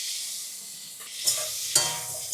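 Onion and capsicum sizzle and fry in a pan, a steady close hiss broken by a couple of sharp bursts as the pieces are stirred.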